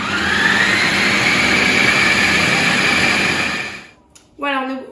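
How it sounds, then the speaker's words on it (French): A multifunction food processor blending falafel paste at a moderate speed setting, its motor giving a loud, steady, close whir for about four seconds before cutting off, followed by a brief voice. "on referme notre bonne multifonction et on mixe jusqu'à l'obtention d'une petite pâte"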